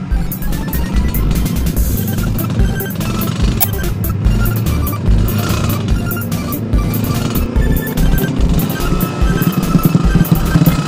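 Dense night traffic jam in Bulungan from a Yamaha RXZ motorcycle, a constant loud blend of idling engines, revving and horn-like tones close by, without talk.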